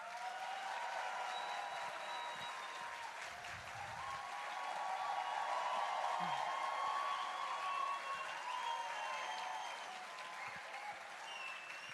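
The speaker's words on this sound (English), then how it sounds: "A big applause to Sadhguru." A hall audience applauds Sadhguru at a Save Soil event in Jordan, a broad sustained wash of clapping that swells in the middle and tapers slightly, with faint voices underneath.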